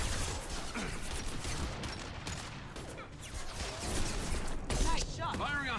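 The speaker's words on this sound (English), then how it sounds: "Firing a high impact shot" Gunfire in a Mass Effect 2 battle, with several sharp blasts and mechanical clatter in a busy combat mix, plus voices talking over the fighting.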